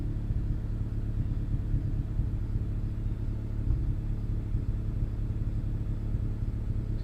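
Turbocharged Honda Accord engine idling steadily after street tuning, a constant low rumble with a faint uneven pulse, close and continuous without voices.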